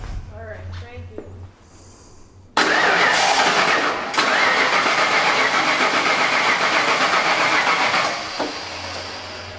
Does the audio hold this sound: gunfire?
no